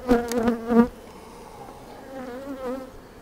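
Honeybees in a double brood chamber hive building comb, a close, loud buzzing swell of wingbeats at the start that settles into a softer, steady hum with another rise near the end.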